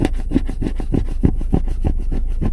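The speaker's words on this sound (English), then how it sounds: "Look at the time it's taking me to scrape off." A glass scraper is dragged across a car dashboard to strip off old glue, giving repeated rasping scrape strokes in a steady rhythm, close and fairly loud with no talking.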